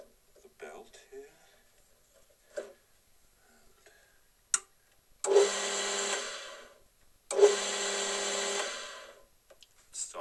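A repaired lathe motor switches on twice in short bursts of about one and a half seconds each. Both bursts give a close, buzzing whir, and light handling clicks and soft sounds come before them.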